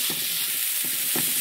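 Minced garlic and finely chopped onions frying in a pan over lowered heat, a steady bright sizzle with a few soft stirring scrapes, close and continuous, no talking.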